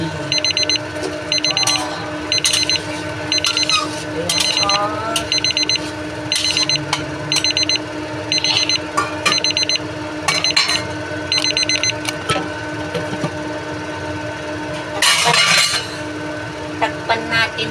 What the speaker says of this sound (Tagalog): 30 minutes na siya, tumunog na yung alarm.